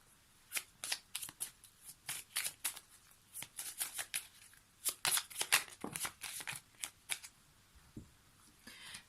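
Lenormand oracle cards shuffled by hand, a run of crisp riffling bursts and flicks at close range, irregular in rhythm with brief pauses, no talking.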